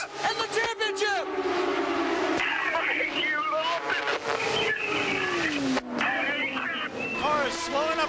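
IndyCar race cars scream around a track, with engine whines rising and falling as cars pass. An excited commentator talks over the racing throughout.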